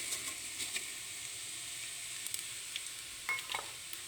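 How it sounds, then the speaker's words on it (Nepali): Panch phoron and fennel seeds fry in hot oil for a jujube pickle, giving a soft, steady sizzle with a few faint stirring clicks. The sound is quiet and continuous, with no talking. "अनि 5 फुरन र सोपलाई मजाले चलाएर भुट्छु एकछिन।"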